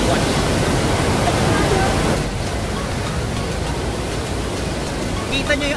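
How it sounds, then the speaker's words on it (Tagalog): Strong water rushes over Wawa Dam in Rodriguez, Rizal, making a loud, continuous roar that fills the whole clip with dense, unbroken noise. "Kita nyo yung agos ng tubig"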